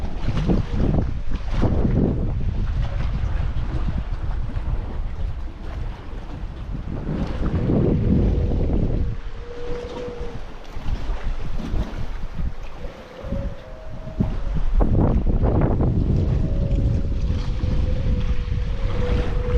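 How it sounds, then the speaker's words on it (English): Wind gusts roar across a sandy shore at Bear Head Lake State Park, and faint flute-like whistling tones rise and hold as the air blows through holes, with heavy buffeting on the microphone. "The wind is blowing through these holes. It's like a flute."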